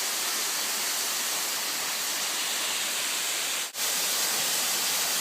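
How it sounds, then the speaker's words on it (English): Brook flowing beside a hiking trail on Mt. Moosilauke's Beaver Brook trail, a steady broadband rush of running water, fairly close and continuous, with a single brief dip. "It parallels the brook over here."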